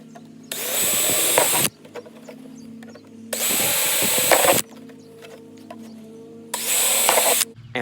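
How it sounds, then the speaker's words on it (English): A power drill bores holes into a plastic gallon jug in three separate bursts of loud whirring and grinding, each lasting about a second, with quiet pauses between. "drill 1 hole 1 inch from the bottom on every side of this jug"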